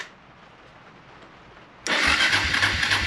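A Suzuki DR350SE motorcycle on a newly installed Heomaito battery, quiet at first, then the engine abruptly cranks over loudly and continues churning near the microphone for over a second.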